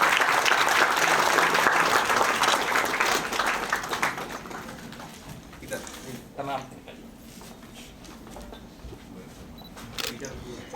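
Applause at a municipal development works inauguration event, strong and sustained at first, then thinning into scattered claps and faint background murmur as it fades.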